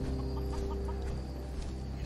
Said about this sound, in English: A red chicken.